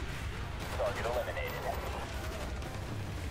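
Muffled gunfire and explosive battle noise from Call of Duty Black Ops rumble continuously in the background, dense and distant-sounding, while a player talks over it.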